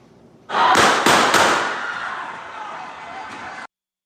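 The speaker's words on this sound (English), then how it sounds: "You see a scuffle and then hear 3 gunshots." Three sharp gunshots crack in quick succession in a restaurant during a brawl, caught on a cell phone, followed by loud, sustained crowd commotion and shouting.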